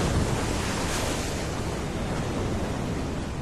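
Hurricane-force wind roars continuously with crashing sea waves on a Caribbean mangrove coast, a dense, loud, unbroken wash of surf and gusting air with no voices.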